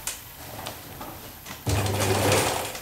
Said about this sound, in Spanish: Si tenéis una buena máquina que os lo cosa, siempre puntada a puntada para que no os parta la aguja